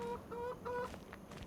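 Chickens at a farm coop in Farming Simulator 25 cluck in a few short, tonal calls, moderately close, over a steady low ambient bed with no talk.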